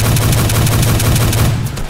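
Heavy gun in the Roblox game Base Battles firing in a loud, rapid, continuous burst with dense booming shots that carry close up and tail off near the end.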